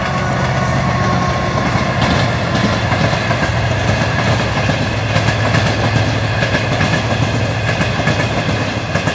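A San Martín line train passes close by in Bella Vista, San Miguel, Buenos Aires, a loud, steady rumble with rail clatter and faint wheel squeal throughout.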